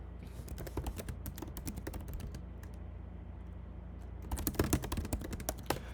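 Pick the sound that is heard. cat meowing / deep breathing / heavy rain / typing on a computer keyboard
typing on a computer keyboard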